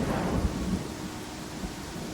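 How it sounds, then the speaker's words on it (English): Rain and rolling thunder in the fantasy role-playing game Pathfinder: Kingmaker, a steady broadband wash of rainfall with low rumbles, loudest near the start and easing slightly, with no voices. "It's like a blizzard, but warm."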